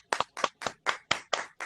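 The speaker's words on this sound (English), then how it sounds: "And these applause are especially for you." Seven separate rhythmic claps ring out close and fairly loud, each a sharp double-hit with short gaps between, at a live Black opera concert event.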